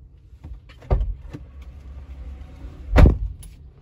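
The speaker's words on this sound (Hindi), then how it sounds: "जैसे ही मैं लॉक करूंगा स्टेयरिंग की मोटर में एक साउंड आएगी और लॉक एक्टिवेट हो जाएगा" The smart key on a Toyota Urban Cruiser locks the car, giving a soft thud, then a quiet whirring motor hum and a louder clunk close by, with no voices.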